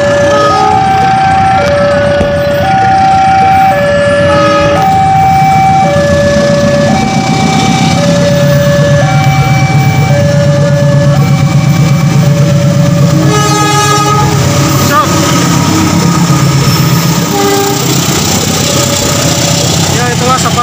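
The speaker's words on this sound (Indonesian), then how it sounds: "itulah sapaan dari masinis Bapak Agung sebagai masinis kereta api Kuto Jaya Selatan" The Kutojaya Selatan passenger train sounds repeated loud horn blasts at Tasikmalaya station, tooting over the rumbling engine and clatter of the passing train.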